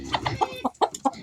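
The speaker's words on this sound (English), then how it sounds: "Time to say goodnight to the chickens." Chickens cluck at night in short, soft, rapid bursts, several clucks in quick irregular succession, close but fairly quiet.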